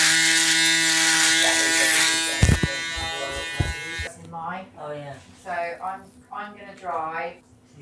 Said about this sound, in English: I'm going to pass over with a razor just to make sure it feels super smooth.